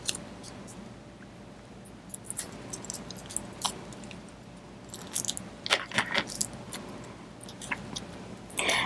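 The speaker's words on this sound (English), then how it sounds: "So I'm going to remove this inner packaging." Inner plastic packaging is pulled off a block of Makin's polymer clay, giving close, crinkly rustles in short bursts that grow busier toward the end, with no talking.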